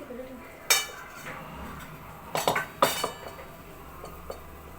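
A metal kadhai and utensils are handled in a home kitchen while modaks are made for a Ganesh festival, giving a few sharp clanks and a cluster of clattering knocks over quiet background noise.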